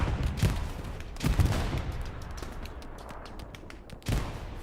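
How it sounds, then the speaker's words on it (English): Tiger tank firing in a World War II multiplayer game, several heavy booming shots and rattling gunfire bursts at mid distance amid ongoing battle noise. "Tiger's back up and shooting, it sounds like."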